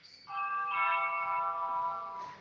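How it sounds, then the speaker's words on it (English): A single doorbell chime rings out with a clear, sustained tone that slowly fades, fairly faint and heard alone without talking. "somebody got a big ass doorbell"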